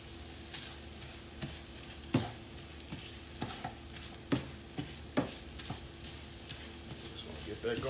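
Diced bell peppers sizzle steadily in a hot pan while a utensil stirs and scrapes, knocking against the pan at irregular intervals, with a faint voice in the background.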